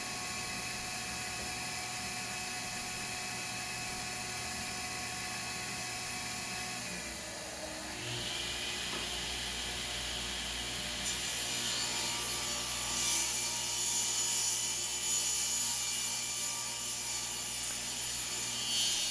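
A table saw runs steadily while a wooden board is fed through on a jointing pass, the blade's whine shifting and swelling as it bites into the wood midway, loud and continuous with no talk.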